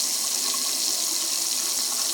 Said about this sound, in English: It has a very nice flow of water coming out.